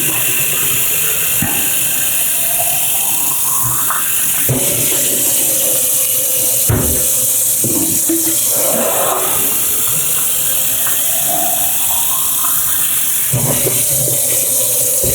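Water runs steadily into a drink bottle from a tap or spout, a continuous rushing hiss with a rising pitch as the bottle fills, close and loud with no talk.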